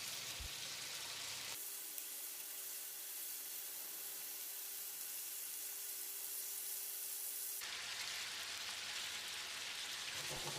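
Chicken frying in a covered pan over moderate heat, a soft steady hiss and sizzle that grows brighter and crackly when the lid comes off at the start and end, with no talk.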